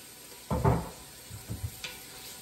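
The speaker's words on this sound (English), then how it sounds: "chop an onion, throw it into a pan or a pot with some hot oil and stir" Chopped onion is stirred in hot extra virgin olive oil in a pan: two short bursts of scraping and sizzling stand out over a soft, steady fry, with no talking.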